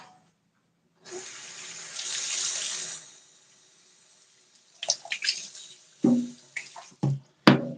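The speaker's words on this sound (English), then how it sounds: "you better rinse it out." A container is rinsed under a running tap, with a steady stream of water for about two seconds, then a pause, then several short splashes and sloshes close by.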